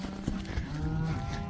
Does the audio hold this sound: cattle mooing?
yes